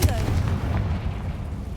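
A Confringo blast spell goes off in Hogwarts Legacy with a deep booming burst up front. The rumble then rolls away and fades out.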